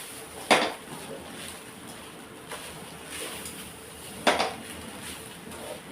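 A spoon scrapes and clinks against a pot while coconut rice is stirred after the stove is switched off, with two sharp metallic knocks and softer scraping in between against a quiet kitchen background.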